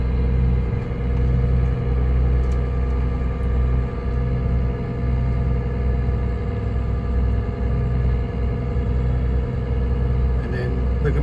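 A boat's engine drones steadily while motoring toward a navigational post, a loud low rumble with a constant hum throughout, and someone talks over it.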